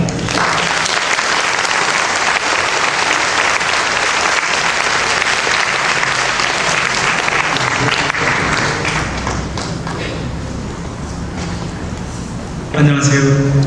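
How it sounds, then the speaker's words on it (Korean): An audience at a Catholic Bible lecture applauds as the priest is welcomed, loud, dense clapping that holds steady, then thins out and tails off. A voice starts speaking at the very end. "박수 주세요."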